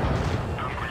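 A loud tank gunshot blast bursts out in World of Tanks Blitz, a dense booming roar that fills the whole moment with a heavy explosive rumble.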